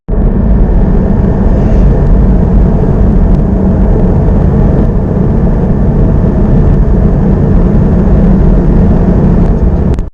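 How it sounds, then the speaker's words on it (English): A Porsche 718 Cayman GT4 at motorway speed, its engine giving a constant low churning drone heard from inside the cabin, steady and loud with road rumble and no talk. "when you're doing sort of 70 on the motorway, there's this constant churning coming from the engine."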